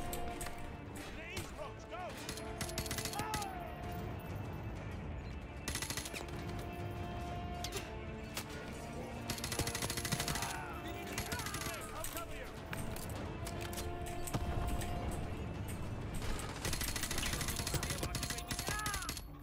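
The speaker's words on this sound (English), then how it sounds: "I'm still shooting people over here." Dense, steady gunfire from a Modern Warfare 2 Campaign Remastered battle, with rapid bursts layered over game music and background voices for the full stretch, growing louder in the second half.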